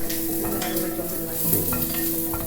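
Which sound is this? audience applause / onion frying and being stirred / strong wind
onion frying and being stirred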